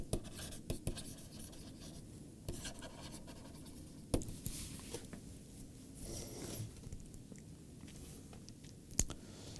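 Chalk or pen writing out a mathematical proof on a board in a lecture on integral curves and flows, with soft scratchy strokes and occasional sharp taps, quiet and fairly close, no speech.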